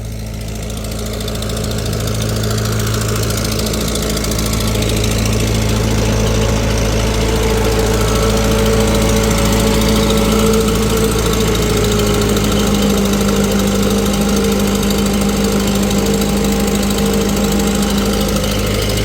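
A tractor engine running hot on a dynamometer, a loud steady drone with a low rumble and faint knocking, holding constant for the whole stretch with no voices.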